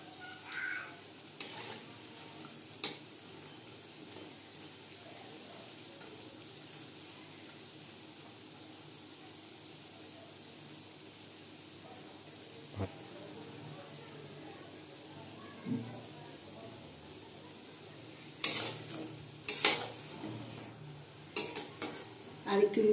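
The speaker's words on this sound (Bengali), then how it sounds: "এই পিঠটা লাল হয়ে ভাজা হওয়া অবধি অপেক্ষা করব" Fish egg fritters fry quietly in a pan with a faint, steady sizzle, broken by occasional scraping and clinks of a spatula as they are turned, with some talk and distant crow caws in the background.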